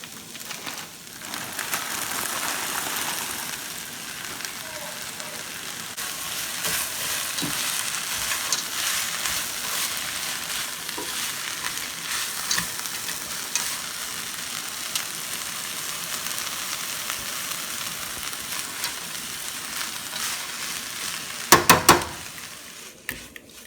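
A bag of frozen corn stirs and fries in a hot pan, giving a steady, close, even sizzle that runs without a break for over twenty seconds, with a few brief clinks near the end.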